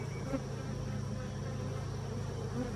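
Honey bees buzz around an opened backyard hive being inspected, a steady, close, continuous hum with no break.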